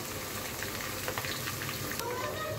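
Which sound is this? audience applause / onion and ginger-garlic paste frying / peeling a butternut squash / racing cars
onion and ginger-garlic paste frying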